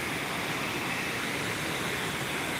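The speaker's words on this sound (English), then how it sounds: "This is the waterfall. One of the waterfalls. This is the loud one." A loud waterfall on the Millstone River on Vancouver Island roars as a steady, dense rush of water, close and unbroken throughout.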